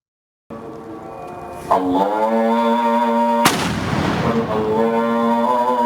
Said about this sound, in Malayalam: മലപ്പുറം വാഴക്കാട് വലിയ ജുമാഅത്ത് പള്ളിയിലാണ് ഇന്നും കതിന വെടി പൊട്ടിക്കുന്നത്